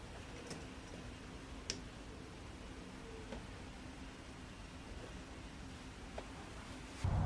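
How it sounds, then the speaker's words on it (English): A loose electrical connector on a Volvo, pushed back together, gives a few sharp, isolated clicks spaced seconds apart over quiet background hiss, close and faint, with a louder thump at the end. "one of the connectors seems a little loose and listen to it clicking once I slide it back together"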